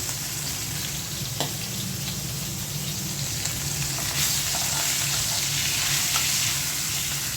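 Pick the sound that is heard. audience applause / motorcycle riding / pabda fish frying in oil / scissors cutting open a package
pabda fish frying in oil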